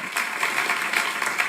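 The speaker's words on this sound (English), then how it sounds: "Oh, they're already clapping." Crowd at a live old-school and new-school show claps continuously, a dense, even wash of applause heard in the background.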